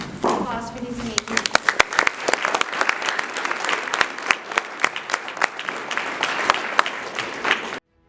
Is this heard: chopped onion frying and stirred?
no